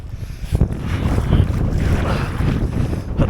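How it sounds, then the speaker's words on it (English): Heavy wind roars across Llyn Gwynant in North Wales during a kayaking attempt, loud and continuous with buffeting gusts against the microphone and rushing water beneath. "But the fucking wind's too heavy."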